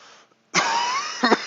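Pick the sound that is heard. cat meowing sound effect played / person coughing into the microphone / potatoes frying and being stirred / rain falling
person coughing into the microphone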